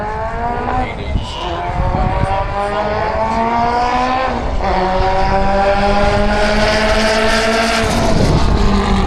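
A drag racing car runs up the track at Santa Pod Raceway, its engine roaring loud and continuous with rising pitch sweeps as it accelerates, heard close over crowd ambience.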